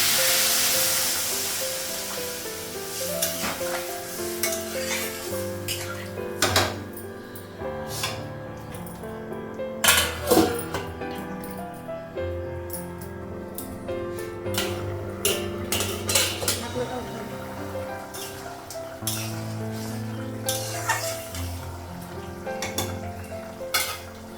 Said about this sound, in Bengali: কড়াই ছিল আর কিছু বাসন ছিল সেটাও ধুলাম